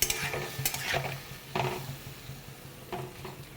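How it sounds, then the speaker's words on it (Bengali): Curry stir-fried in a pan with two green chilies, a soft sizzle broken by several distinct scraping strokes of a spatula against the pan, close by and moderately loud. "চলো এইভাবে এটা কষা, কাঁচা লঙ্কাও দিয়ে দিলাম দুটো"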